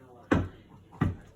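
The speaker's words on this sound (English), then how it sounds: "Move this chair out of the way." A chair in a craft studio is shifted out of the way, heard as two brief, dull thuds or scrapes about a second apart, fairly close and moderately loud in an otherwise quiet room.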